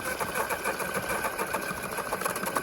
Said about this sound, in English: that's the water pump lifting the non-return ball valves